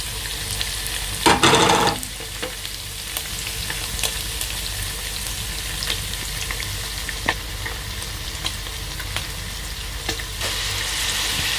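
Spices frying in a pan for chicken jalfrezi, a steady close sizzle with a brief loud burst of hissing early on as something is added, then even frying with light stirring clicks, no talking.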